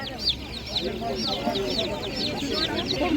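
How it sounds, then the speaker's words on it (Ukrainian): Domestic chicks at a market cheep in a busy chorus of high, rapid peeps close by, with people talking over and around them. "Домашні нечайні курчатка по 30 гривень"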